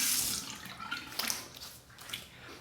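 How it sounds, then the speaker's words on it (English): Water runs from a tap for a hot-then-cold face rinse after a shave, a soft continuous splashing and trickling close by, fluctuating as hands move through the stream. "final rinse, hot water, then cold water."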